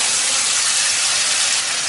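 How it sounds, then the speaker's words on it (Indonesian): Ground spice paste sautéing in a little oil in a wok, a steady close sizzle and hiss running unbroken throughout with no voices. "Kita akan tumis bumbu yang sudah tadi kita haluskan ya."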